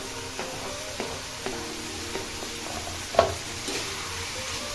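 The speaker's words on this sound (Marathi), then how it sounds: "हे मस्त असं सगळं एकत्र परतून घ्यायचे" Chopped tomato, capsicum and carrot sautéing together in a pan for a simple Indian-style pasta, a steady soft sizzle with several light stirring clicks and scrapes spaced through it, close and moderately quiet.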